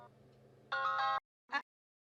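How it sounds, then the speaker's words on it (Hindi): A short electronic ringtone plays a bright melodic burst, stops, then gives one brief chirp before falling silent. "फोन आ रहा है"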